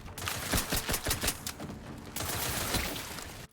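Rapid gunfire in The Outer Worlds, dense bursts of automatic shots crackling close and loud for a few seconds, with shots packed together in an almost continuous fusillade.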